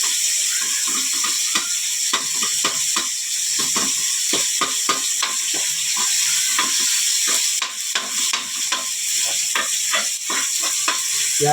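Tomatoes being sautéed and mashed in a pan while cooking monggo with pork bones: a continuous sizzle under rapid, rhythmic scraping and tapping of a utensil pressing the fruit, loud and close throughout.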